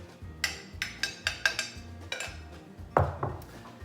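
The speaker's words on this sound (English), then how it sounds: "We'll give it a little stir to make sure the filling's evenly" Utensil tapping and scraping against a baking dish while quiche Lorraine filling gets stirred, a run of about eight light clinks and knocks, close and moderately quiet, with no voices.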